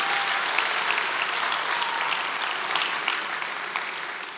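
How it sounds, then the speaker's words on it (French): A gala audience in a hall applauds steadily, a dense wash of many hands clapping at even strength throughout, close and continuous with no voices standing out. "je pense qu'il y a encore une grosse main d'applaudissements,"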